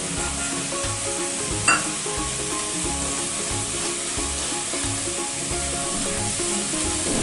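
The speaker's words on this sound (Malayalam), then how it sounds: "കുറച്ച് ഉപ്പ് കൂടി ഇട്ട് കൊടുത്തിട്ട് ഒന്ന് വഴറ്റിയെടുക്കാം." Onions with salt, turmeric and chili powder sizzle steadily in a hot pan for brinjal masala, a close, continuous frying hiss with faint rhythmic stirring scrapes and one small clink.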